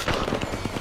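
A short, loud gunshot crack from a fight in the video game Apex Legends, with a dense rattle of shots packed into under a second.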